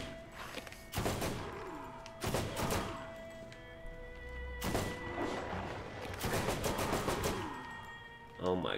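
Bursts of gunfire from a weapon in Borderlands on PS4, several loud broadband volleys spaced a second or so apart, some sustained like rapid fire, with game music and a voice talking underneath.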